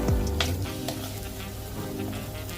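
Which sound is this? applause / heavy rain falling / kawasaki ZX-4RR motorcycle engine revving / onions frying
onions frying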